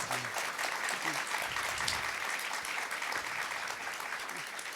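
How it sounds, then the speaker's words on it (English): Steady audience applause for panelists at a conversation event on looming Medicaid cuts, a continuous wash of many hands clapping at moderate distance, sustained evenly throughout. "can we give our panelists a round of applause?"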